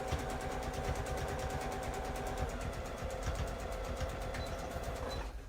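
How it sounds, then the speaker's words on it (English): A sewing machine back stitches and top stitches track pants, running in a fast, even mechanical chatter close up for several seconds before stopping abruptly at the end. "Back stitch. And then sew down it."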